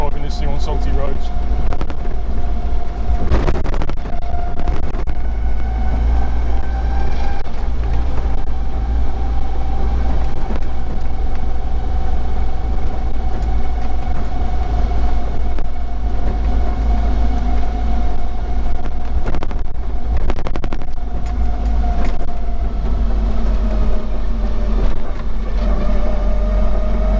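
Land Rover Series 3 driving on a road, a steady droning engine and gearbox hum with constant rumble and rattles heard from inside the cab, someone talking intermittently over it.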